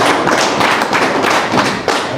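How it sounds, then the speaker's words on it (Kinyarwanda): Church congregation clapping for the parents during a religious wedding ceremony, a dense, steady round of applause with rhythmic swells, loud and close throughout. "reka tubashimire nabo ababyeyi tubaha amashyi"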